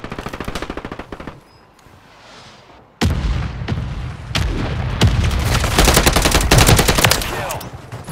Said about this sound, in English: Requesting ordnance. Position marked. Solid copy. Mortar strike on the way.